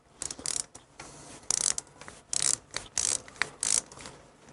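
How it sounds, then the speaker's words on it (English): A small palm ratchet turning a bolt on a Harley Shovelhead intake gives quick bursts of close, crisp clicking strokes with short pauses between them. "Like my little palm ratchet. It's one of my favorite tools."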